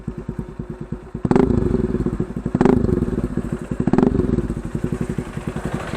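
A Pulsar NS 200 fitted with a loud Akrapovic exhaust is held near the rev limiter, its close, harsh engine note bouncing in rapid stuttering pulses, with three sharper surges along the way.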